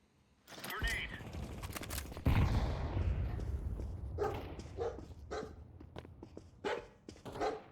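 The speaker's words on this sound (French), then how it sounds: "on va se rapprocher des chiens" Dogs barking in the shooter Counter-Strike 2, repeated close barks mixed with bursts of gunfire while players talk over the action.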